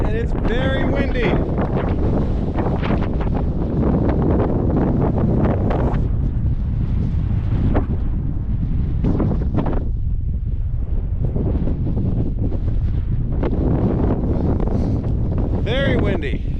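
Strong gusty wind buffets the microphone near the top of a desert trail in Big Bend National Park, a loud continuous roar with surging gusts, while a voice and heavy breathing occasionally come through.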